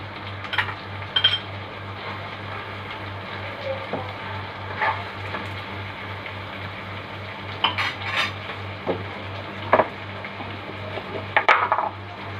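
Tomatoes go into sausage cooking in a pan, bringing scattered clinks and scrapes of a utensil against the cookware over a steady background hum, some taps sharper and louder than others.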